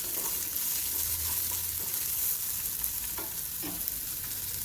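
Chopped onion frying in a pan for a Maharashtrian pigeon-pea dish gives a steady, moderately loud sizzle, with occasional stirring scrapes and soft clinks and a low rumble underneath.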